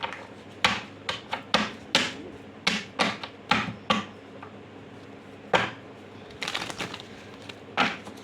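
Tarot cards slap and clatter in a quick series of sharp, close taps during shuffling, about a dozen light impacts in an uneven rhythm with brief pauses, recorded indoors with no talking.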